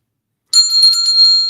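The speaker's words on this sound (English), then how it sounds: "The bell." A doorbell rings once, a bright sustained metallic chime starting abruptly after a brief silence and ringing on clearly and loudly with a slowly fading tone.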